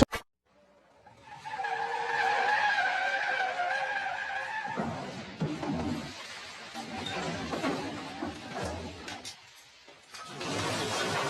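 Tires of a vehicle skid on a road in an accident involving a motorcycle, a loud tonal screech lasting a few seconds, followed by rumbling traffic noise and clatter, with faint voices in the background.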